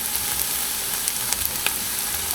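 Tomato paste fries in a pan for minestrone soup, giving a steady, dense sizzle with a few faint scrapes and pops, close and uninterrupted, no voices.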